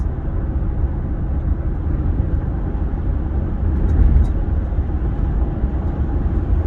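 A 2008 Honda Odyssey minivan climbing a hill, its engine a steady low drone mixed with road rumble from inside the cabin, swelling briefly partway through.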